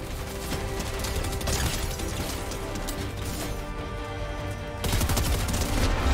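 Dense, continuous gunfire and crashing impacts from a Fortnite zero-build match, with a sustained barrage of shots that swells louder toward the end, filling the whole stretch without talk.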